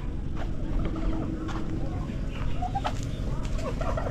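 Backyard chickens cluck faintly in short scattered calls over a steady, loud low rumble of evening background noise.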